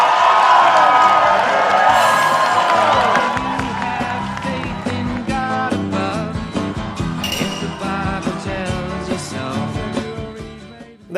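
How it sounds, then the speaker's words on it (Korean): Guests at a state dinner rise in a standing ovation after a song, loud dense clapping with cheers and whoops, while faint piano or music notes and some voices run through it before it fades at the end. "내빈들이 모두 일어났는데 기립박수를 쳤다고 합니다"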